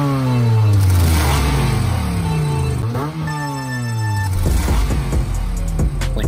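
A car engine revs hard and accelerates repeatedly in a parking lot before a race, loud and close, with rising and falling pitch sweeps and a rattling clatter as it winds up again.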